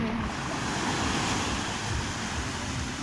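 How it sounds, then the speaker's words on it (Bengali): Sea waves roaring at Digha beach, a steady, loud wash of surf mixed with wind noise, unbroken and without voices. "এই সমুদ্রের যে একটা গর্জন"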